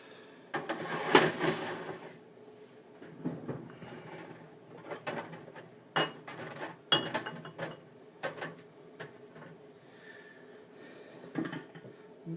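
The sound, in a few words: glass jars clinking while taken out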